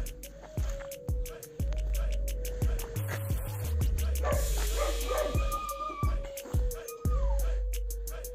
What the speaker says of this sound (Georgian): აი, ეჭვიანი ძაღლები არიან მაგარი.